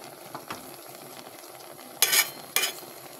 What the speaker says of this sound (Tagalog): lagay ko na yung gata